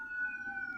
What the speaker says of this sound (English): a siren passing by when we're discussing noises that go on in the town